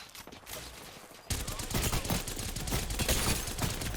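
After a quieter opening, a sustained burst of automatic gunfire erupts in a video game shooter and keeps hammering with recoil-heavy spray.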